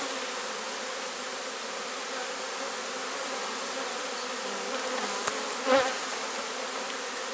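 A honeybee swarm buzzes around a tree during swarm collection, a dense steady hum filling the air with a couple of brief sharper sounds near the end.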